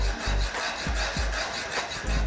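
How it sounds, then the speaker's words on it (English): A normal hacksaw cuts with a steady back-and-forth rasp, about eight quick strokes in close succession, near and moderately loud. "just a normal hacksaw."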